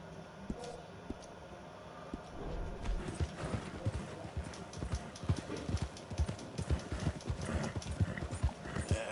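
A horse in Red Dead Redemption clip-clops along at a steady walk, hoofbeats close and rhythmic, picking up pace after a quieter start, with a brief whinny-like snort.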